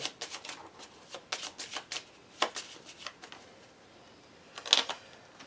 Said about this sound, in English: But this is all going to get shuffled.